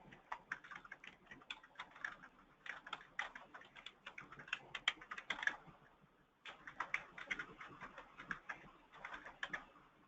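Someone types a destination on a computer keyboard in quick, irregular bursts of close, soft key clicks, with a short pause midway and no one speaking.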